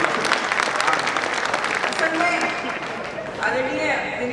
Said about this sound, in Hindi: एक बार ताली वाली बजा